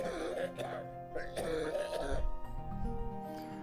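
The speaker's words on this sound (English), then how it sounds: "It's a nasty cough you've got there." A video game character gives a rough, throaty cough and clears the throat, close and alone, with a few muffled voiced grunts and a faint background tone.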